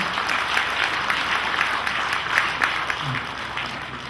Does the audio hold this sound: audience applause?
yes